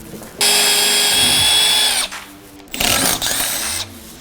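Cordless power drill fitted with a 1/4 inch bit, mounting a 2021+ Ford F150 Raptor bumper light bar, whirs loudly for about a second and a half, pauses, then runs again in a second shorter, rougher burst.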